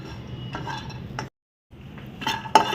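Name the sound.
cashews and almonds being roasted and stirred in a pan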